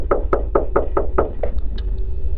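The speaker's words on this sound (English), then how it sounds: "The suspects knocked on a homeowner's door" A fist knocks on a homeowner's front door at night in Colorado, about eight firm, evenly spaced knocks in quick succession, close and loud, then fading into faint taps.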